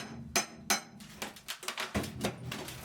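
A crowbar and hammer strike and pry at bathroom tiles aboard a sailing ship, giving sharp close metallic knocks and clinks in an irregular series, loud and alone.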